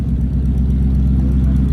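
A classic car with a 1954 Dodge engine runs close by, a loud, steady low rumble with an even, throbbing idle for a brief moment.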